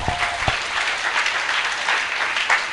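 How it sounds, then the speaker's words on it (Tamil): An audience at a church assembly in Chengalpattu breaks into applause, a dense, continuous patter of many hands clapping close by, opening with a couple of sharper claps and holding steady to the end. "கைத்தட்டுங்க பார்க்கலாம்."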